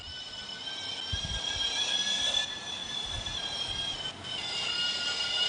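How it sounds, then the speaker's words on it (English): A tram-style train approaching in the Roblox Brookhaven game, its sustained high metallic wheel squeal and steady rolling rumble building and holding over several seconds with a few low thumps, heard alone. "Now the train is coming."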